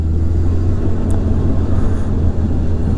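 A motorcycle rides through leaf-covered hill roads in Sasebo, Japan, its engine a loud steady low rumble with wind roar, close and continuous throughout, with no talking.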